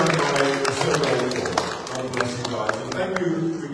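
A church congregation gives a brief round of scattered clapping at the close of a Sunday morning service, with the patter of hands mixed with talk.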